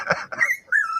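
A dog lets out a few short, high whimpers and whines close by, in two brief bursts with a pause between.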